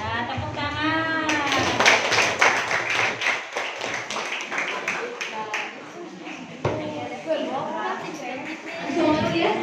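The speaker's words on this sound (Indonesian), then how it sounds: "Ya, tepuk tangan." A group clapping hands during a first-aid and PMR lesson at a health clinic, rapid overlapping claps under loud children's voices and chatter throughout.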